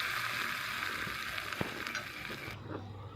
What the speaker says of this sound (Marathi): आणि गरम गरमच ही फोडणी या चटणीवर ओतून घ्यायची